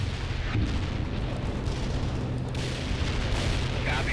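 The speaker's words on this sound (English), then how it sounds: "Heavy artillery barrage inbound." A heavy artillery barrage in the strategy game World in Conflict rumbles as a dense, continuous roar of booming blasts and low thunder, loud and sustained throughout.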